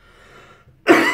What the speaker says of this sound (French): Excusez-moi, c'est pas la vape qui me fait tousser.